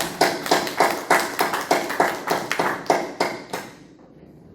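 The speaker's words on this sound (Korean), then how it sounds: "이분들에게도 감사의 박수를 드리겠습니다." A church congregation at a Korean worship service claps in a brisk, fairly even rhythm of about a dozen beats, the sound fading out toward the end.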